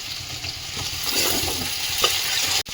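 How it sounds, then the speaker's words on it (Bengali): Beans and flat beans sizzle steadily in a hot wok, a loud, continuous frying hiss with soft stirring scrapes, close up and with no voices. "এবার বিন কড়াই আর সিম দিয়ে দেবো"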